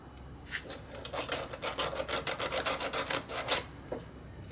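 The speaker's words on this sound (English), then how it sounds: "Got some sandpaper here. This is 120." A clutch pedal part from a Ford truck is rubbed with 120-grit sandpaper, giving a run of quick, rasping back-and-forth strokes close up that speed up in the middle and then trail off.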